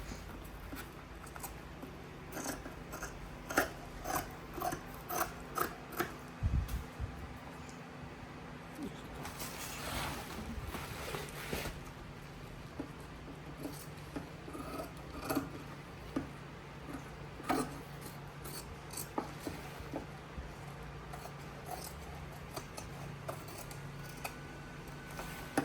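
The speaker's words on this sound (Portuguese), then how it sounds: "a gente vai começar a refilar, retirar todos os excessos do que a gente não vai utilizar" Scissors trim excess fabric and lining from a sewn lunch box made from milk cartons, giving quiet, intermittent snips and rustling handling noises scattered through the clip, with faint background sound.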